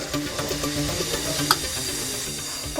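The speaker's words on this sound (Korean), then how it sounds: "조금 전 썰어놓은 가래떡을 가져와 고구마와 함께 튀기고 있었는데" Sliced Korean rice cake and sweet potato fry in oil with a steady, close sizzle and crackle, alone with no talk, and a couple of louder pops standing out.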